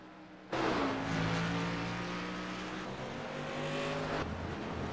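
A race car engine drones along a track in a simulated stock-car racing league, a steady full-powered roar that swells in suddenly, holds, then fades as the car passes.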